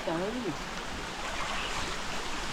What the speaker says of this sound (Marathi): पाण्यात जोर आहे.